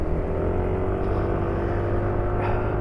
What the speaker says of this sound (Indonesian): Nanti suara mesin ini akan berubah kalau misal kita bawa 80 atau 100.